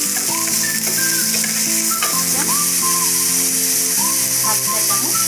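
Steady frying sizzle from a pan of shrimp malai curry hisses loudly and continuously, with tonal music playing over it.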